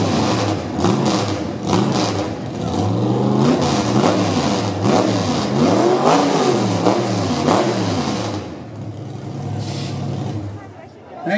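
A Chevrolet Vega's exhaust revs loudly at a car show exhaust contest, with the engine note climbing and falling through repeated throttle blips. It is sustained and close, then settles back to a rumbling idle near the end.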